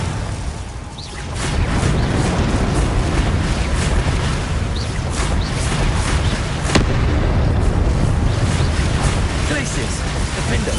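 Confringo spell explosions in Hogwarts Legacy go off again and again, booming and crackling under loud, continuous combat noise, with a voice shouting over the blasts.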